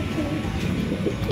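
Pigeons in a loft coo nearby in soft, throaty murmurs, with a little background chatter.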